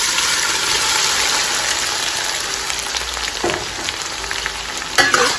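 Onions frying in a pan for beef biryani, a loud continuous sizzle close by, with a few scraping stirs and a sharper clatter near the end.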